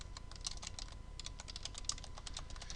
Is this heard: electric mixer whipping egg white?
no